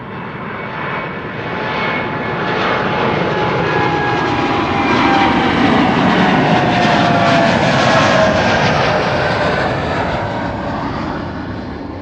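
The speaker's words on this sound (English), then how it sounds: "KLM Flight 1831 to Stuttgart, which is an Embraer 190" A KLM Embraer 190 jet bound for Stuttgart takes off at Amsterdam Schiphol, a loud rising engine roar with whining tones that peaks nearby and eases off as it climbs away.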